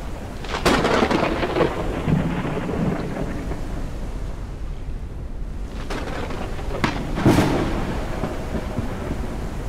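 Thunderstorm in the Forever Skies video game: loud rolling thunder cracks twice over steady rain and wind, with no talking.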